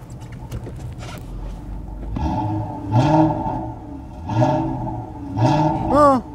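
A car engine with its second catalytic converter removed revs up several times in short bursts, rising and falling in pitch, loud and fairly close, with a brief voice before it.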